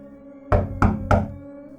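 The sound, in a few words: repeated knocking on a door, story sound effect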